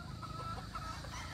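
GF signature line gamefowl pullets, a Raptor line, clucking softly in a farm pen. The sound is faint and close, with low steady clucks and no voices.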